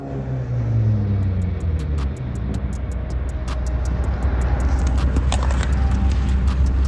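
A car engine rumbles low and close, then accelerates as the vehicle speeds away, its steady roar filling the clip with no clear talk.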